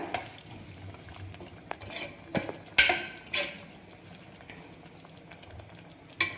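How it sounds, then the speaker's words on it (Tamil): Food being stirred in a cooking pot while making beetroot salna, with a few scraping and clinking spoon strokes over a faint background simmer. "சேர்த்துட்டு ஒரு தடவை நல்லா மிக்ஸ் பண்ணி விட்டுக்கோங்க."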